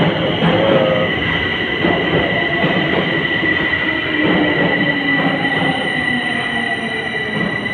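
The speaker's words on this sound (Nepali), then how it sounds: "ट्रेन आयो। ट्रेन यसरी आउँछ।" An underground subway train in Romania roars in continuously and loudly, wheels rumbling with faint squeals as it pulls into the station; no talking.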